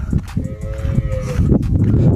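A calf moos close by, a short nasal call followed by a longer rising bellow, loud and clear with no talking.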